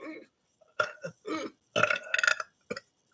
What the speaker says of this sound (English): Wait, Donna, you can burp on command?